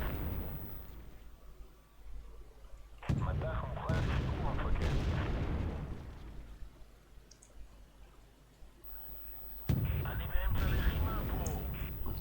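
A Merkava 3B cannon fires in a tank video game, sending out several heavy booming shots with rumbling tails. A voice talks over the gunfire throughout.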